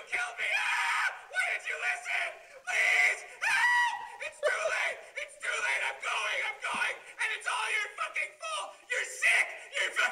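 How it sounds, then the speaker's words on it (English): A man screaming in a recorded performance, repeated long anguished yells and shrieks in loud bursts with brief gaps, close and harsh. "we just had him go for like a couple of minutes of just screaming"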